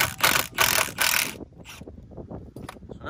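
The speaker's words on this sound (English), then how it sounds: "I need to unscrew this here, which looks like about a T45 or something" A ratchet turning a Torx T50 bolt on the rear brake of a 2008 Volvo V70, with quick bursts of rasping clicks followed by softer metallic fiddling and small knocks nearby.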